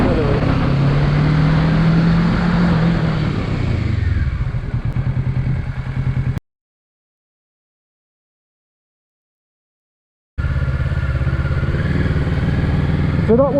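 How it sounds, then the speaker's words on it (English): A Lexmoto LXR 125 motorcycle accelerates round a bend, its engine note loud and rising over wind noise with a voice talking. The sound then cuts to several seconds of silence before the engine and wind roar return. "Look ahead round the bend, and accelerate."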